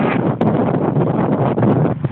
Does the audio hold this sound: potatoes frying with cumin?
no